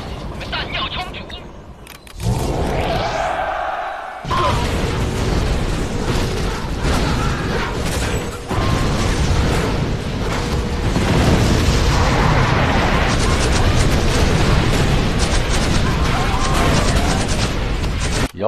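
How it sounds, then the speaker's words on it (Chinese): Particle cannon strikes and battle explosions in the real-time strategy game Command and Conquer Generals, with deep booms and rumbling blasts over continuous mechanical game noise while voices speak in the mix. "Our ally has activated the particle cannon."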